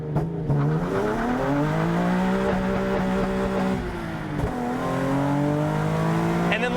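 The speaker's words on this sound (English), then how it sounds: "Once you hit 3 grand, drop the clutch. Then when you hit red line and then when you bring it back down, you're gonna be spitting flames" A Nissan Z with a modified exhaust revs hard toward redline, its engine note climbing and holding loud and close, then dipping briefly before rising again, with exhaust crackle at the end.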